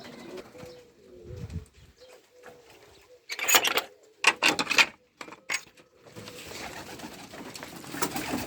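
Ödemiş Kelebeği pigeon chicks in a loft give soft low coos, with bursts of rustling and scratching as the birds move about, some sharp and close, over a quiet background.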